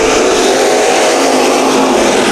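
Loud, continuous engine roar from an IMCA stock car racing at Bakersfield, a dense high-revving drone with no pause or talking.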